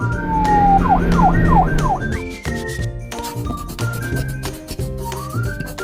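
A police car siren gives a series of quick rising-and-falling yelps, then one longer tone, loud over steady background music that continues after the siren stops.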